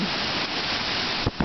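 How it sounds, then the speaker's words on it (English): A strong gust of wind sweeps through a rainstorm in Manitowoc, Wisconsin, as a loud, steady rushing roar close to the microphone, with a couple of brief buffeting bumps near the end. "Here comes another rush of wind."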